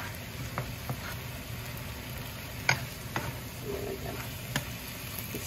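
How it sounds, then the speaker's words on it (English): A seasoned pasta mixture with turkey and spinach is stirred in a pot, giving soft scraping and occasional light clinks of the utensil over a steady low sizzle, with no talking. "We're going to give that a swirl around"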